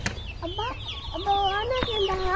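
Hens clucking close by as they come out of their coop, several bird calls overlapping in short rising and falling bursts, with no talking.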